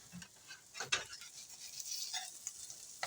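Fritters frying in a pan and turned with an oversized spatula, a quiet sizzle under scattered scrapes and soft clatter of the spatula against the pan, with no talking.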